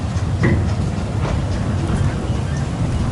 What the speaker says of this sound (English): we're going to watch a train depart for our last time.